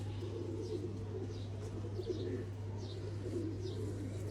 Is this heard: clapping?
no